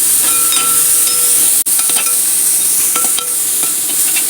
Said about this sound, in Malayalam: നന്നായിട്ട് അതൊന്നും കൂടി വാട്ടിയെടുക്കാം.